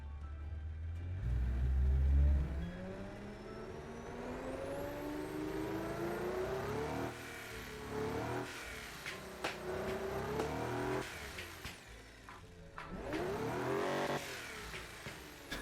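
A car engine in the video game BeamNG revs up and climbs through rising pitches, easing off and surging again several times, loud and close with no talking.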